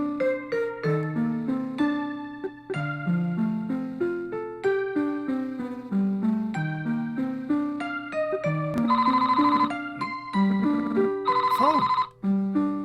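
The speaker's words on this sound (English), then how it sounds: "Phone." In the Famicom Detective Club Vol. 2 video game, a telephone rings in two short electronic bursts near the end, laid over a looping chiptune melody that plays throughout.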